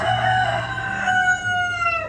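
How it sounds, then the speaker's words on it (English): A rooster crows once, a loud, drawn-out call lasting about two seconds, close by and alone. "and you hear the rooster crowing"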